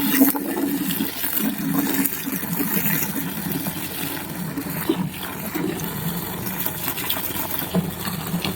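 Water runs steadily and loudly into a bucket at a car wash, a continuous rushing pour with a low hum underneath.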